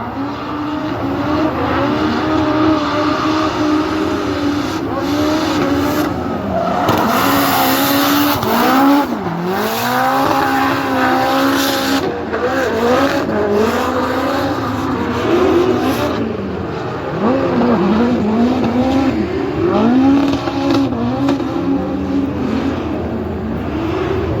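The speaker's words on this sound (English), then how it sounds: "listen to this 4-cylinder turbocharged nitrous gum out Toyota Racing Toyota Corolla hatchback" A turbocharged, nitrous-fed four-cylinder Toyota Corolla hatchback drift car at a Formula Drift event at Irwindale screams through continuous high revs, its engine pitch sweeping up and down with tire squeal, loud and sustained throughout.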